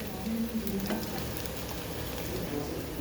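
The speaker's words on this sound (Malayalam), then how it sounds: "ചില്ലി ചിക്കനുള്ള സാധനം വറുക്കുകയാണ്." Chicken pieces for chilli chicken fry in a pan with a soft, steady sizzle and crackle, fairly quiet and close, holding evenly for a few seconds.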